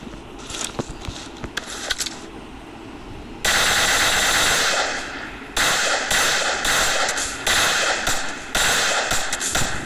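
Video game gunfire in bursts of rapid, loud shots, with a dense volley starting partway through and repeating in several clusters separated by brief pauses.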